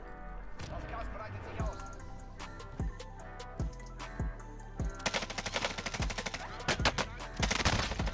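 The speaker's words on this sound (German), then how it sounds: "Schießen jetzt alle nur auf uns." Gunfire in Call of Duty Warzone: distinct single shots ring out with echoing tails, then turn into fast, loud automatic bursts toward the end, while voices talk beneath.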